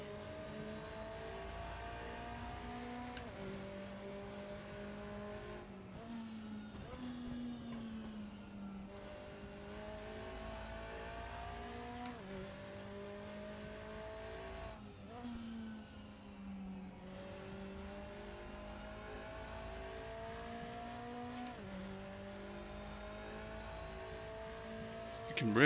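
A McLaren DTM race car engine in the RaceRoom racing game howls steadily throughout, rising through the revs and dropping with repeated gear shifts, loud and continuous with no talk.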